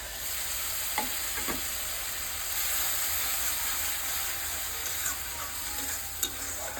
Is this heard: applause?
no